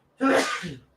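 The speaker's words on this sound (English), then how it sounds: "Give me 1 second. I got to sneeze." A single loud sneeze, close and sudden, with a sharp onset and quick fade.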